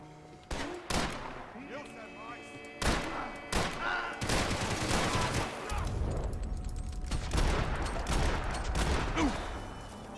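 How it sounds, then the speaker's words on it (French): Revolver gunfire in the video game Max Payne 3, an old wartime revolver: several sharp, loud shots ring out early, followed by a dense burst of rapid firing and clatter that continues under the game's sound effects. "C'est un vieux revolver de la guerre, ça."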